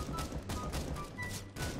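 Gunfire rings out through a smoke cloud in the video game CS:GO, a rapid, fairly faint burst of repeated shots with no break across the short stretch.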